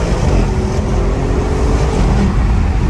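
An Audi RS7 accelerates hard, heard from inside the cabin as a loud, continuous engine and road roar with a faint rising tone that never lets up.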